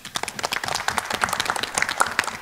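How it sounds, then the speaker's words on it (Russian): Audience applause at a school quiz final, a dense burst of many hands clapping that fills the whole stretch at steady loudness with no voices over it. "Ваши аплодисменты."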